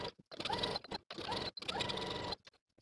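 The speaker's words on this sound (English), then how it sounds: "Now take it to your machine and sew with your preferred stretch stitch." Sewing machine basting a skirt edge with a stretch stitch, running in two steady bursts of rapid whirring with brief pauses between, close and moderately loud with no talk.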